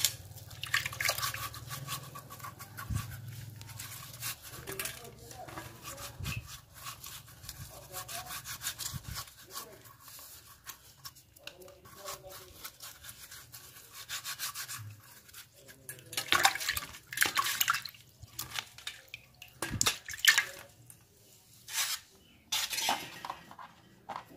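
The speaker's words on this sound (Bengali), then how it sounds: "এই ঝিঙেটিকে বেশ ভালো করে পরিষ্কার জল দিয়ে ধুয়ে নিতে হবে" A medium-sized ridge gourd is rubbed and washed by hand under clean water, giving soft, irregular scrubbing and dripping sounds that grow busier toward the end, with no talking.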